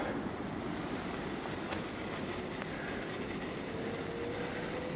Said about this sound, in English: I can hear water rushing intermittently